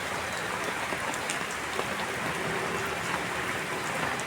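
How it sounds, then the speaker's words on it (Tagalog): Heavy rain pours down in a dense, continuous hiss of drops hitting surfaces, with no talking over it. "Grabing ulan talaga ngayon."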